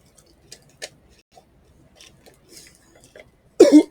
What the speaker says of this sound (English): I was coughing because of it.